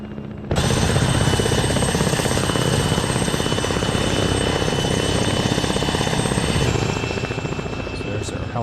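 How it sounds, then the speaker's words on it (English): A helicopter in the video game ARMA 3 starts up abruptly and holds a loud, steady rotor thrum and engine whine for several seconds before easing slightly, with a voice talking over it. "So there's our helicopter there."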